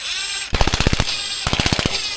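A pneumatic impact wrench removes nuts from a 1776 VW buggy engine in two loud, close bursts of rapid rattling hammering, each about half a second long, separated by a short pause.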